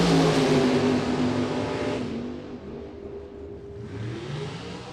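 Drag racing car engine at a Summit Summer Slam bracket race, roaring loudly at launch with harmonic revving that fades and shifts as the car pulls away down the strip.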